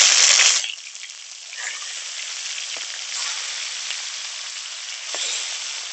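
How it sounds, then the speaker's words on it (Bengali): Fish heads sizzling in hot mustard oil with salt and turmeric in a pan, a brief loud burst of spitting oil at the start settling into a softer steady sizzle with occasional light clinks. "উল্টে পাল্টে একটু লাল লাল করে ভেজে নেব।"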